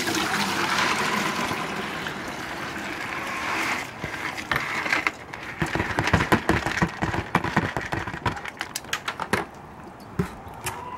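Water draining out of a tray of sprouting barley fodder, a steady pouring rush that gives way to scattered drips and trickles, close and fairly soft, with no talking.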